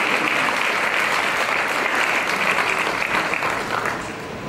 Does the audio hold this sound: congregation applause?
yes